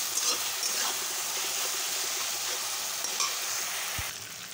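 Onions frying with ginger-garlic paste, cumin, coriander and red chili powder give a steady, dense sizzle, with faint stirring scrapes and a dull knock near the end as the noise drops slightly.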